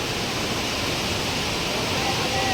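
The Saraswati river flows beside the Moksh Pipla at Prachi as a loud, steady rushing hiss that does not let up, with no other sounds over it.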